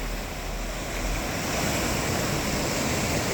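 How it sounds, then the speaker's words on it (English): Heavy surf from large ocean waves makes a steady, loud wash of noise with gusty wind rumble on the microphone, unbroken for a few seconds with no talking. "Look at these massive waves."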